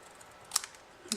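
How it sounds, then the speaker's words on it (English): Scissors snip through paper being trimmed for a graduation card, giving two sharp, close cuts about half a second apart in quiet surroundings. "I'm going to go ahead and trim off the end just a bit."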